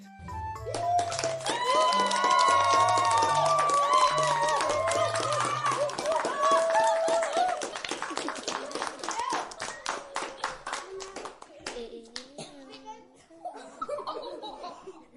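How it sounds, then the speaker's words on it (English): Applause and cheering in a children's shape adventure, rapid clapping mixed with bright high voices and giggles over a bouncy musical backing, the clapping thinning toward the end. "Give yourselves a round of applause."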